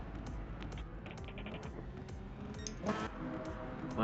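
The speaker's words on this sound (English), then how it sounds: "I have to reset the keyboard" A computer keyboard clicks in quick, uneven bursts of keystrokes close to the microphone over a steady low background hum, with no talk.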